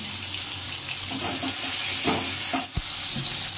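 Tomatoes fry in hot oil with salt, making a steady close sizzle broken by a few stirring scrapes and a brief knock near the end.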